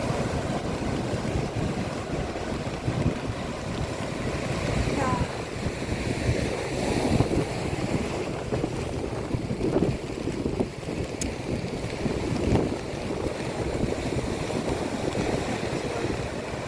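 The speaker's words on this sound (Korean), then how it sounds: "지금 비가 오고 있고요 폭우주의보라서 바람이 강해요" Strong wind and crashing surf at Gyeongpo beach in Gangneung during a heavy rain advisory, a constant rough roar with gusts buffeting the microphone throughout.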